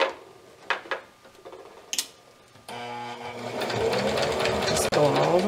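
A sewing machine stitches stretched fabric for a ruffled petti-romper, starting after a few soft clicks and handling noises, then running in a loud, steady whirring hum to the end with a brief pause near the close.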